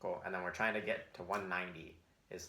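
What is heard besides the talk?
None of the usual background noises is heard.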